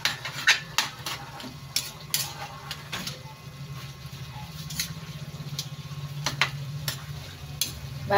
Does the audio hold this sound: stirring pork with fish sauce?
yes